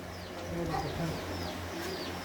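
A prized racing pigeon at a breeder's loft gives soft, repeated low coos over a steady background hum, close but gentle.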